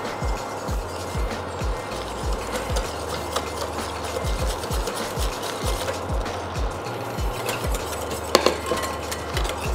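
Hot milk being whisked slowly into egg yolks in a bowl: steady, evenly spaced whisk strokes tapping and swishing close up, with a couple of sharper clinks near the end.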